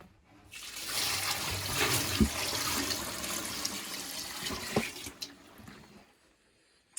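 Water pours steadily into a bucket of soapy water for a homemade laundry washer, a rushing splash for several seconds, then tapers off and stops.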